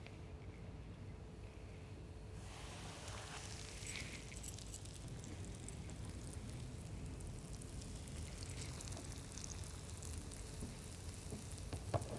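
Continuous crackling sizzle of arrowroot-coated fish frying in oil, steady and close, with a brighter burst of spitting a few seconds in.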